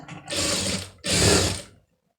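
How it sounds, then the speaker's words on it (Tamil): A sewing machine stitching the patti band of a blouse, two close loud whirring bursts of about three-quarters of a second each, separated by a short pause and then falling silent. "பரட்டிட்டு கீழே ம மடித்து ஒரு தையல் வந்து போட்டுருங்க"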